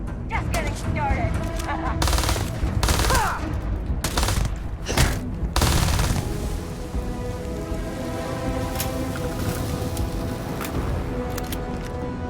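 Combustion acid toxin corrosive gun firing in the video game Starfield, bursts of rapid gunshots in a dense crackling mix, loudest in the first half and then settling into a steady rumble.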